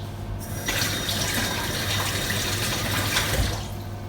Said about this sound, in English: This tap takes forever to get hot.